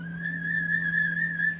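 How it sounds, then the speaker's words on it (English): Traditional Hawaiian whistle twirled round on a string, a sustained steady whistling tone with slight wavering pitch, close and moderately loud, alone. "whistles that sing when they're tied to a string and twirled round and round"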